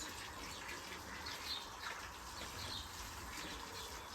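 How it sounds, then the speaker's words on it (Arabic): Water gushes steadily on a farm in hot weather, a continuous broadband rush that stays close and even throughout, with faint bird chirps above it and no talking. "بصوا الميه"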